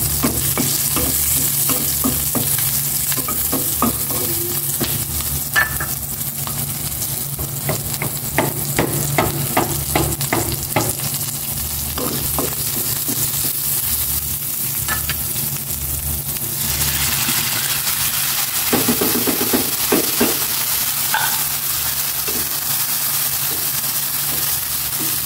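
Onions frying in a pan, a continuous close sizzle with frequent scraping stir strokes throughout, a low steady hum in the background and a brief louder hiss near the end.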